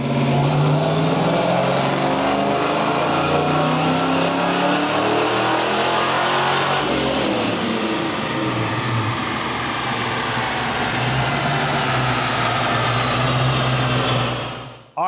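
A 1990 Ford Mustang Fox Body with a Vortech supercharger screams through a loud dyno pull on high-octane fuel, the engine climbing steadily in pitch with a whining blower before lifting off abruptly at the end.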